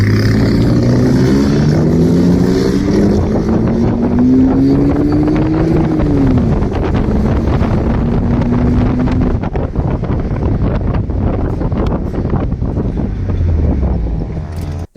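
A homemade trike and a pitbike race side by side, their small engines revving loudly with rising and falling whines through heavy wind buffeting, the pitches climbing as they accelerate away.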